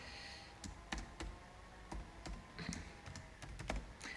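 Someone is typing on a computer keyboard, sharp key clicks arriving in irregular bursts with short pauses between them, close by and fairly quiet.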